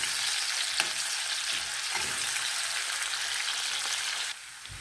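Potatoes and carrots frying for buckwheat plov make a loud, steady, crackling sizzle up close, with a few faint stirring scrapes, dropping slightly in level near the end.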